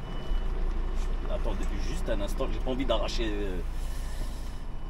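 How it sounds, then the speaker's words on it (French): Trucks wait packed into a crowded parking lot with engines grumbling, and intermittent reversing beeps sound under someone speaking French throughout. "Il y a énormément de camions en attente."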